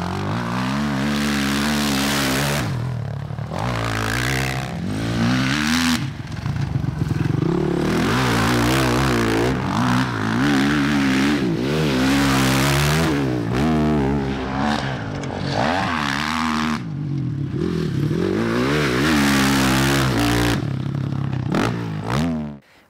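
A 2002 Honda CRF 450 motorcycle engine runs loud and close, its rough four-stroke note rising and falling through repeated revs and throttle blips, with no voices over it.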